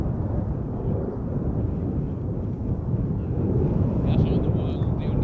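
Air Canada Boeing 787-9 Dreamliner on its takeoff roll at Schiphol, a deep, rumbling engine roar heard at a distance, steady and low with slight swelling, a faint higher whine near the end.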